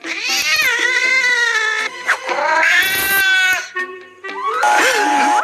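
A cat yowls loudly and insistently, several long drawn-out meows with rising and falling pitch, very close.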